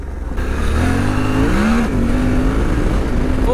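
A Suzuki V-Strom 800DE adventure motorcycle's engine at full throttle just after an off-road section, a loud, steady, close roar with a rising pitch as it pulls hard, alone with no talk.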